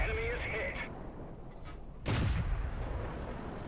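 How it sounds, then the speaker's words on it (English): A tank cannon fires in World of Tanks, the Matilda in play: one sharp, booming shot stands out midway over a steady engine rumble, with a lighter thump earlier. "So I'm gonna shoot this guy a few times."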